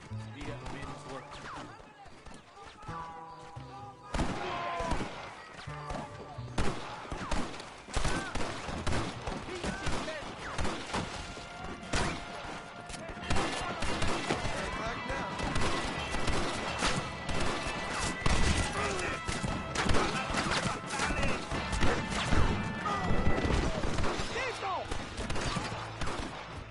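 Gunfire rattles through a shootout in the 2010 video game Red Dead Redemption: dense, irregular volleys of loud shots and sharp cracks, with voices shouting and talking over the din.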